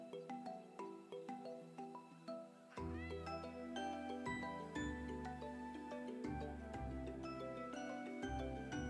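A cat in the video game Roots of Pacha meows in a short series of calls over the game's steady, tinkling background music.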